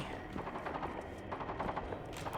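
Rapid submachine-gun fire in the video game Generation Zero, with dense bursts of shots crackling continuously and loudly through the short stretch.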